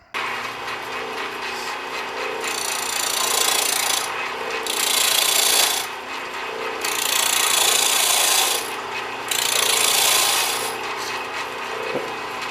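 Walnut block spinning on a wood lathe while a hand tool rubs and scrapes it to true it round, a steady loud rasping hiss that swells and drops in repeated long passes, with no talking.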